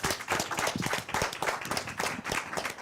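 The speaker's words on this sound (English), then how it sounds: "Another round of applause, please" An audience at a live talk event claps vigorously and close, producing a thick, continuous patter of many hands that stays strong from start to finish.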